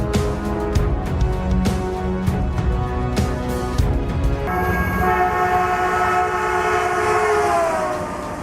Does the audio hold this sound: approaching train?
yes